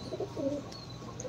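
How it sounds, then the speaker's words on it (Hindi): A Sarai Gajra pigeon gives a few soft, low coos close by in a quiet setting. "ये कबूतर है सराय वाला गजरा कबूतर की"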